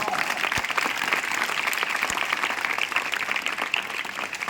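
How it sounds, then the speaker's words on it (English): A crowd applauds steadily at a school event, dense clapping from many hands that stays fairly even throughout. "Clap for him all."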